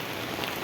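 Heavy rain pours onto a rooftop in a dense, steady hiss that stays loud and even throughout, with no voices present.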